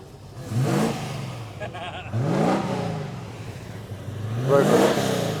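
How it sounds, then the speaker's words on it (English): Rover V8 engine revving noisily in a garage, three rising and falling rev surges spaced a couple of seconds apart at moderate distance. "Rover V8 in the background being noisy"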